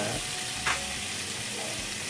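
Food is fried and stirred in a pan over a wood-fired cooking fire, a dense close hiss with one brief louder scrape, with no talk.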